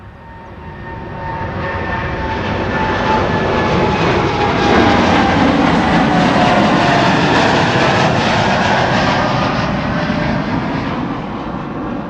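A United Airlines jet bound for Chicago O'Hare roars down runway 24 at Amsterdam Schiphol, a loud sustained engine rumble that swells and holds steady for the whole stretch, with no voices.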